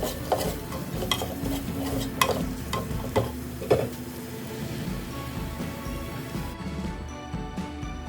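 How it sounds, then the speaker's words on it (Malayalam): Fried onions and coriander powder stirred in a pan for chicken biryani: repeated metal spoon clinks and scrapes over a continuous close sizzle, with the stirring stopping near the end. "ഞാനപ്പോൾ ആദ്യം തന്നെ ഒരു ടേബിൾ സ്പൂൺ മല്ലിപ്പൊടി ഇട്ട് കൊടുക്കുന്നുണ്ട്. നമുക്ക് നല്ലോണം ഇളക്കി കൊടുക്കാം."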